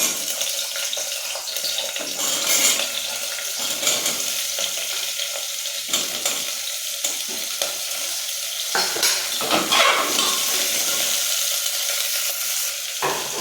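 Potato, radish and carrot fry in a pan with a steady loud sizzle, and stirring scrapes come and go throughout without any talk.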